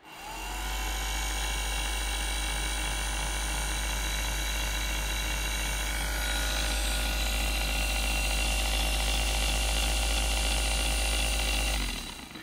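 A rebuilt 1971-1976 Cadillac Eldorado convertible top motor and gear drive runs on the bench, a loud, steady electric whir with gear whine and a deep hum, shifting pitch midway and stopping abruptly near the end.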